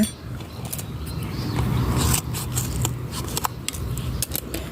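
Scissors snip open a packet of plain milk at a kitchen table, a few quick crisp cuts and light rustling over a faint background hum, fairly close and quiet.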